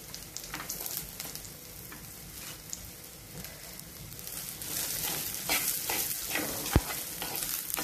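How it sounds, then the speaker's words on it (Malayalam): Sliced onions dropped into a pan where garlic and ginger are already frying in oil, giving a steady close sizzle with scraping stirs that grow busier toward the end, plus one sharp knock, and no voices. "ഇനി ഇതിനകത്തേക്ക് നമുക്ക് ഈ അരിഞ്ഞു വെച്ചേക്കുന്ന സവാള ചേർത്ത് കൊടുക്കാം"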